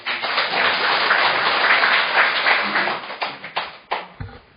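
An audience at an indoor gathering applauds to welcome a speaker, with dense steady clapping that thins into a few scattered, separate claps before fading out.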